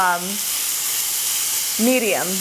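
Vegetable and mushroom skewers sizzle softly and steadily on an oiled grill pan over medium-low heat, with brief voices speaking at the start and end.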